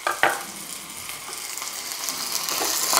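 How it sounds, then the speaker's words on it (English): Zucchini cut about half an inch thick sautéing in a hot pan: a steady sizzle that builds over a few seconds, with a couple of brief clatters of stirring near the start. "I'm gonna saute this for a couple minutes"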